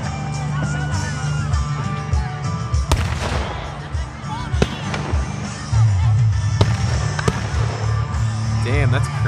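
July 4th fireworks exploding outdoors, a rapid run of sharp booms and crackling pops at irregular intervals, loud and close, with people talking in between.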